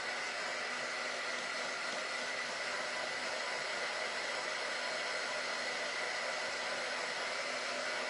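A hair dryer blows steadily on a freshly painted plaster-molded wooden picture frame, giving a constant close whooshing hiss for the whole stretch, with no voices.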